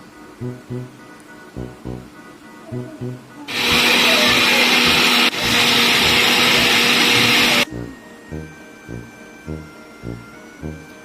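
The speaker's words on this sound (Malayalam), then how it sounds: "കുറച്ച് തേങ്ങയും കുറച്ച് ജീരകവും ഒരല്ലി വെളുത്തുള്ളിയും 2 അല്ലി ചെറിയ ഉള്ളിയും കൂടി എടുത്തിട്ട് നന്നായിട്ടൊന്ന് അരച്ചെടുക്കാം" An electric kitchen mixer grinds coconut, cumin, garlic and shallots into paste, running loud and close for about four seconds with a brief dip, set between quieter rhythmic kitchen sounds.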